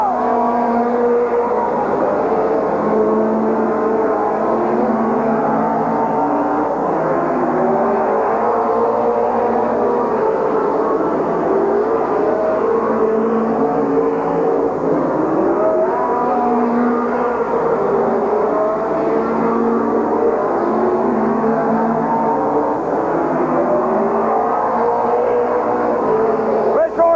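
Race cars roar around the oval at Midvale Speedway in 1987, engines droning continuously and rising and falling as the pack circles the lap, with a crowd or announcer's voice mixed in under the steady noise.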